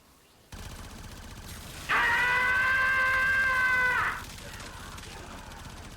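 Automatic weapon fire in the video game Warframe, a sustained burst of about two seconds from a gun with almost no recoil, loud and close, rising out of quieter game background noise.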